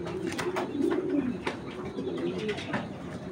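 Racer pigeons cooing at a bird seller's, several low rolling coos close by with light flapping or handling clicks between them.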